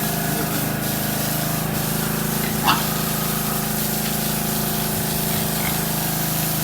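A water hose sprays a pig in a fattening pen with a steady, hissing gush, continuous and close, over a constant pump-like hum with a brief knock partway through.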